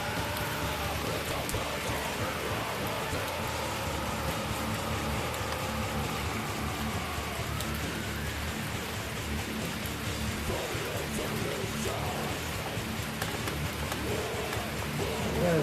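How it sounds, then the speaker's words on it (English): Steady rain falls outdoors around a 2007 GMC Envoy, a constant dense hiss with no breaks that stays loud and even throughout. "You guys just enjoy the rain."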